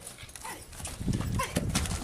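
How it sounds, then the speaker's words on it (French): A horse breaks into a gallop from a trot during schooling, with rhythmic hoofbeats thudding on the ground, growing louder and heavier in the second half, with faint voices in the background. "il faut demander beaucoup plus d'énergie pour partir au galop"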